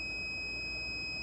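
A multimeter gives a steady, continuous high beep while testing continuity through a fuse wire on a Dewalt 20 volt cordless vacuum DCV580, sounding alone over a faint low hum.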